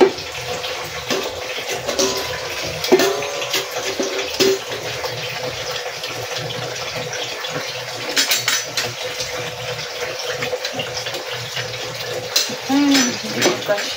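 Water runs steadily from a tap, a loud continuous splashing stream with small fluctuations in flow.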